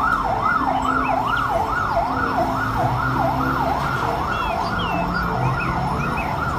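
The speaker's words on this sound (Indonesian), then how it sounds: "kalau yang ini mobil pemadam kebakaran" A fire truck siren wails, rising and falling in a fast, steady cycle throughout, loud and continuous over a low rumble of traffic.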